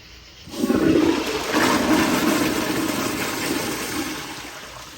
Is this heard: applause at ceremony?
no